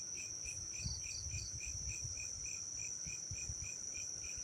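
Crickets chirp at night around an abandoned house: a steady high trill with evenly spaced chirps repeating throughout, close and clear over a faint low rumble, with no voices.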